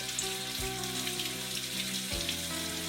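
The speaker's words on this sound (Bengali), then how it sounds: "একটা মাঝুমি দিয়ে ঠিক এভাবে ডোলে ডোলে ধুয়ে নিচ্ছি" Potatoes are scrubbed and washed with a scrubber, giving a continuous close hiss of water and rubbing under a faint background hum.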